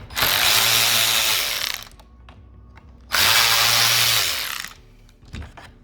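Power tool backing out Torx bolts on a backup camera of a 2010-2014 Chrysler Town & Country: two loud, close buzzing bursts of over a second each, separated by short quiet clicks.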